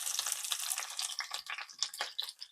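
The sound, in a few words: washing bok choy under running tap water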